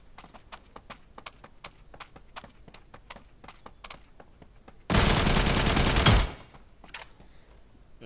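Automatic AK Alfa gunfire in the New State mobile battle royale game: a loud sustained burst of roughly a second, preceded and followed by quieter rapid tapping footsteps-like clicks, with no speech.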